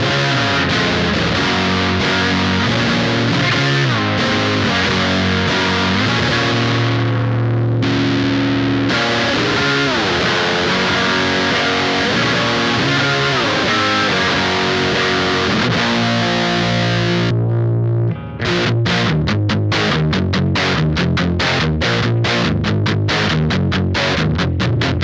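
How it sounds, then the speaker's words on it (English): Electric guitar driven through the overdrive mode of an Electric Love Aquatone pedal, gain near 60%, playing loud continuous gritty chords and riffs, ending in a run of choppy staccato stabs. "Here's the overdrive mode."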